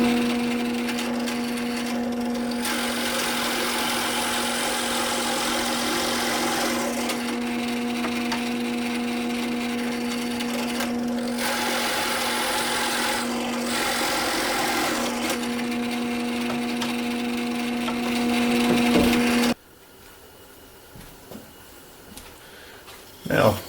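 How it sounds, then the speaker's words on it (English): A drill with a spade bit bores holes through wood for a bench hook clamp, giving a steady loud whine and grinding for about twenty seconds before it stops, with a voice speaking over it. "Once I drill the first set of holes, I'll simply flip it over and come in from the other side."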